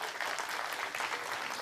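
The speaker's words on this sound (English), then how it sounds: "All 4 of you can come up and we'll give them a round of applause as they do that." An audience at a live psychological illusionist show applauds as volunteers come up on stage, giving a brief, dense burst of clapping at a constant level.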